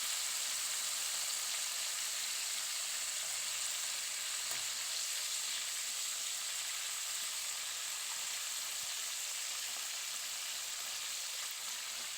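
Raw banana chips frying in oil over low gas, a steady, soft continuous sizzle and hiss with occasional small crackles, unchanging throughout, no talking.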